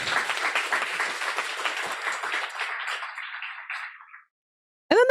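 Audience applause at a guide dog graduation ceremony, a dense roomful of clapping that carries steadily for about four seconds, thins and stops, followed by a brief voice.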